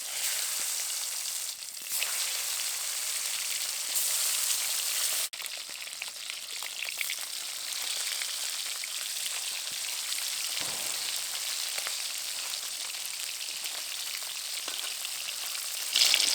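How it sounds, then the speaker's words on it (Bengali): Koi fish fry in hot oil, giving a continuous bright sizzling hiss that sounds close and fairly quiet, with a few faint knocks and shifts partway through. "এই তেলের মধ্যে এবার কই মাছ দিয়ে ভেজে নেব।"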